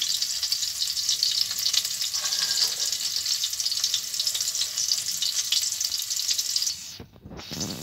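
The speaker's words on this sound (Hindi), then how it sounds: "इसको एक मिनट तक थोड़ा फ्राई होने देंगे" Garlic and chili sizzling in hot ghee in a pan, a steady, close, bright hiss that runs continuously before dropping out briefly near the end, with no talk.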